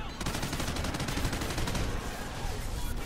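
Continuous close-range automatic gunfire in Call of Duty: Ghosts Extinction mode, a loud, unbroken rattle of rapid shots holding steady throughout.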